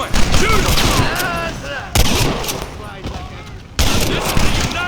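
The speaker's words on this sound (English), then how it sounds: "Keep them covered now, Marston. Hold them off" Gunfire in the Western video game Red Dead Redemption comes as dense, loud volleys of rifle and pistol shots in rapid bursts, with shouting voices mixed into the fight.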